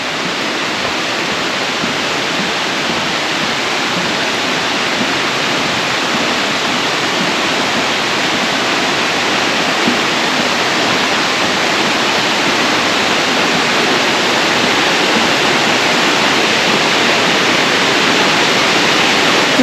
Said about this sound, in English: And the waterfall is on Wagner Creek.